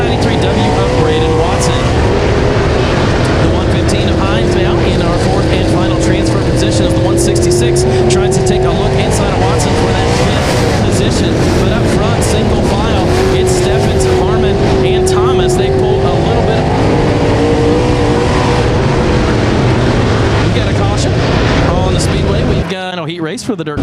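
Dirt modified race cars roar around a dirt track at Brownstown, Indiana, engines loud and continuous with rising and falling pitch as cars pass, while an announcer talks over the racing throughout.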